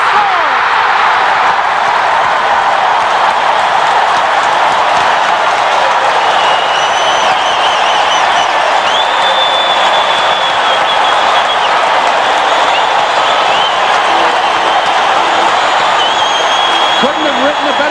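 Loud, dense arena crowd roar from hockey fans at a Stanley Cup playoff game between Calgary Flames and Edmonton Oilers, sustained cheering and applause throughout, with whistles and shouts rising over the continuous din.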